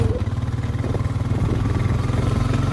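A Honda Rancher 420 ATV engine labors under load while towing in second gear, a steady low throbbing drone with pulsing rhythm, close and loud throughout.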